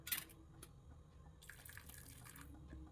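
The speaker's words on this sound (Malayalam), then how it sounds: "1/4 ഗ്ലാസും കൂടെ ഒഴിക്കുന്നുണ്ട്." Boiled and cooled water is poured into a Kerala-style lubikka pickle, a faint, soft trickle with a quiet splash that grows a little fuller partway through.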